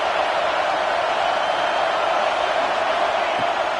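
Dense roar of a football stadium crowd cheering, loud and unbroken, a wide wash of voices filling the space without distinct words.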